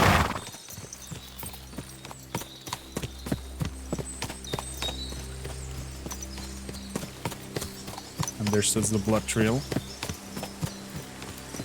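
Horse hooves clip-clop at a steady walking rhythm in the Kingdom Come: Deliverance II video game, close and clear under a voice, with a snort or brief whinny near the end.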